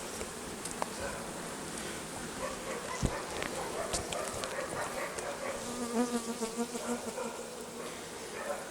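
A honeybee hive in early fall buzzes steadily and softly throughout, a dense hum of many bees close by with a few faint clicks and bumps over it.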